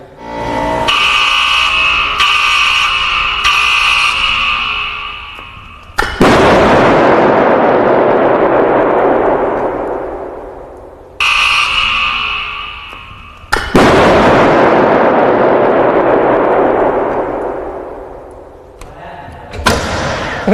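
A first-generation iPhone blasted by a high-voltage capacitor discharge gives several loud, sharp explosive bangs, each trailing into a long roaring decay, with a sustained buzzing hum before the first blasts.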